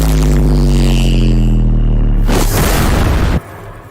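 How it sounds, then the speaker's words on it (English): Heavy bass-boosted impact from the anime Fire Force, a massive deep booming hit with a low rumbling drone that bursts into a loud crackling blast, then cuts off abruptly. "This absolutely massive drop of sound is meant to indicate just how powerful Benimaru is"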